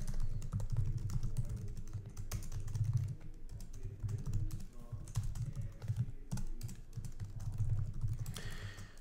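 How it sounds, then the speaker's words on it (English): Computer keyboard typing while shipping details are entered at an online store checkout, a steady run of soft clicking keystrokes throughout, close and fairly quiet, with no talking. "If I type in all my information"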